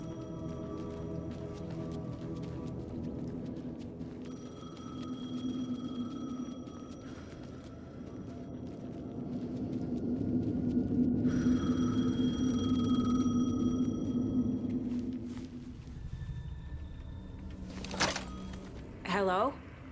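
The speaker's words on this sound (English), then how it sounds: "The payphone was ringing." A payphone rings in the video game Alan Wake 2, repeated electronic bell tones sounding in bursts over a low ambient drone, followed by a few sharp mechanical clicks near the end.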